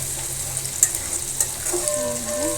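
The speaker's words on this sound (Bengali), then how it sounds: "এখানে পেঁয়াজ আর রসুন দিয়ে দিলাম তেলের ভিতরে" Onion and garlic frying in hot oil in a pan, a steady bright sizzle with a couple of sharp spatula clicks and a faint tonal squeal toward the end.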